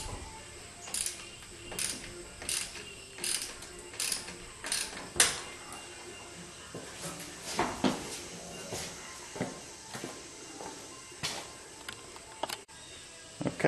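A ratchet works on thermostat housing bolts, producing rhythmic bursts of mechanical clicking at a steady pace with small metallic knocks between them.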